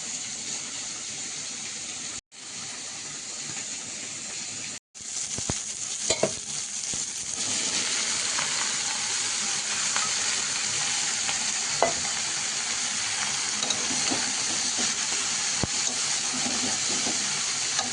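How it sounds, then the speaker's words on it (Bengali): Chopped bottle gourd going into a hot pan of fried prawns, onion and dried chilli, setting off a loud, continuous close sizzle with stirring scrapes after two brief breaks near the start. "চিংড়ি মাছটা ভালোভাবে ভেজে নিয়েছি পেঁয়াজ আর শুকনো লঙ্কা একসঙ্গে করে। আর এবার দিয়ে দেবো কেটে রাখা লাউটা।"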